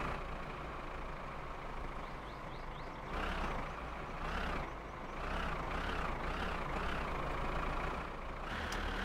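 Truck in My Summer Car driving steadily, a loud low engine drone that swells and shifts in pitch as it works through the gears, heard alone.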